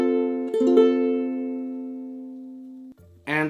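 A ukulele chord strummed once near the start and left to ring, its steady tone fading slowly for a couple of seconds before it cuts off and a brief new strum begins at the end.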